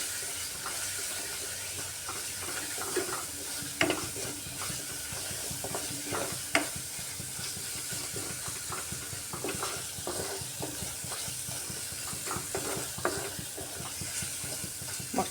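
Kashmiri red chili powder and masala sauté in a pan for a besan potol sabji, giving a steady close sizzling hiss broken by scattered scraping clicks of stirring throughout, with no voices.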